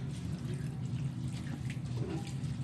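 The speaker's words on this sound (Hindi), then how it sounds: "तकरीबन 1 लीटर के करीब मैंने पानी डाल दिया ताकि चावल और गाजर जो है अच्छे से पहले ही पक जाए" About a litre of water pours steadily into a cooking pot holding rice and grated carrots, giving a continuous close splashing, gurgling wash with no speech over it.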